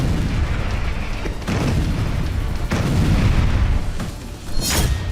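Heavy explosions from air strikes and bombs dropped on Gaza roll together into a continuous, loud rumbling din, with several sharper booms rising out of it and no voices.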